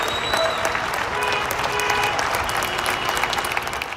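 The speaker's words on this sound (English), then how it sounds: "every day at 8 o'clock in the evening, people come out of their homes and applaud" Neighbours in Spain clapping from their homes in the nightly 8 pm tribute to healthcare workers: a dense, continuous wall of applause echoing between buildings, with a few high tones or whistles threading through it.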